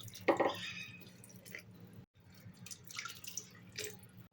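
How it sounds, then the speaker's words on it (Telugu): Two glasses of water are poured into a cooking pot, starting with a bright splashing gush, then a brief pause and further trickles and drips, at moderate loudness with no talking. "2 గ్లాసుల నీళ్లు పోసుకొని"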